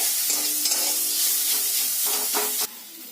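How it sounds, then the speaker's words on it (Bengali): Fried mango pieces get pressed and mashed with a spatula in dal, a steady sizzle with scraping strokes against the pan that cut off abruptly near the end. "আমগুলো এরকম খুন্তি দিয়ে চাপ দিয়ে একটু ঘেঁটে দিতে হবে"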